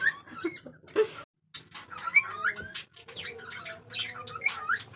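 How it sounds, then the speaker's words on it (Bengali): Pet birds calling indoors close by, with a run of bright, repeated whistled chirps and tweets that overlap and continue through the whole stretch. "কত সুন্দর ডাকছে শুনছো কোকো পিকু"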